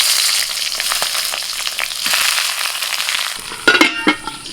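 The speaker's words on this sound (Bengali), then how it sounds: "এবার একে একে তেলের মধ্যে দিয়ে দিচ্ছি।" Banana leaf parcels of banana flower dropped one by one into hot mustard oil in a wok, giving a steady close hiss of frying with scattered crackles and a few sharper pops near the end.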